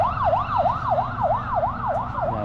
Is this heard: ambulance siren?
yes